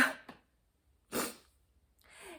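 A few short, sharp nasal sniffs separated by quiet pauses, close and soft, with no talking.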